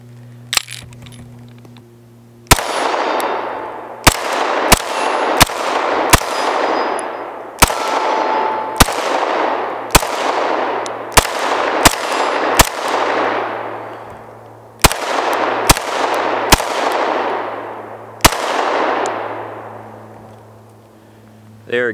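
A Syndicate S2 compact kit firearm firing at a range, sharp loud shots spaced irregularly over about twenty seconds, each trailing off in ringing echo, with a low steady hum beneath.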